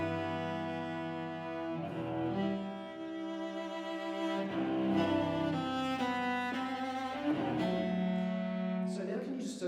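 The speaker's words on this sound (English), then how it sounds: "Josh, can you play us the beginning of the very beginning of the concerto again, please?" A solo cello plays the opening chords of Elgar's Cello Concerto: rich, sustained multi-stop chords rising and swelling, close and resonant, with no one speaking.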